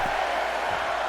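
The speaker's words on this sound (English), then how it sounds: "Listen to this crowd count the next one in." A dense arena crowd roars steadily in the WWE 2K22 wrestling game, a broad continuous wall of cheering and chanting with no clear breaks.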